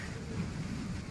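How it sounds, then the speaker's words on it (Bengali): Distant thunder rolls as a faint, steady low rumble on a windy rooftop, with no voices. "আকাশও ডাকছে।"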